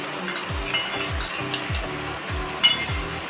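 Spice paste is poured into hot oil in the pan for a cabbage kofta curry, giving a steady close sizzle with a repeated rhythmic scraping stir and a sharp metallic clink near the end.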